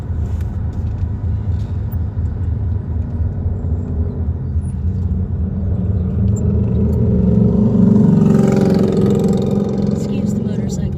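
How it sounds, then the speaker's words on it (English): Motorcycles run through street traffic near a roundabout, a close, continuous engine rumble that swells louder toward the end as one passes, with a voice talking over it. "Excuse the motorcycles, please."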